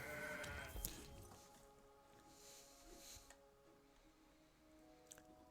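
A goat bleats in the Legends of Runeterra card game, a short cartoonish bleat rising over soft game ambience with scattered clicks and ticks, fairly faint overall.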